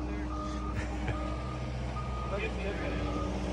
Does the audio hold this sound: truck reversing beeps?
yes